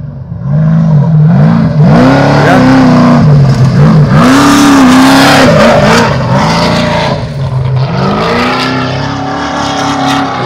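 A trophy truck's race engine roars at the Baja 400 desert race, revving up and down in repeated rising and falling sweeps. It is very loud and close, then eases slightly as it moves off.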